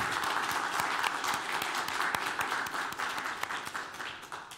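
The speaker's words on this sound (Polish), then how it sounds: "Wielkie brawa, szanowni państwo." Audience applause at the final of a quiz contest, steady dense clapping from a crowd filling the whole stretch, fairly loud and continuous with slight fading toward the end.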